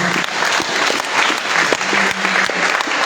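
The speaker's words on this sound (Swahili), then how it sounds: "Jamani, tupigie makofi mengi Roho Mtakatifu" Church congregation applauding together, a dense continuous wash of clapping that stays loud and even throughout without any talk.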